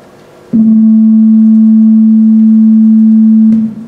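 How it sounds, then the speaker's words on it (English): A steady, pure low 220 Hz sine tone (A) sounds alone at a constant level for about three seconds, starting and stopping abruptly. "The sound here on the top is just A220 by itself."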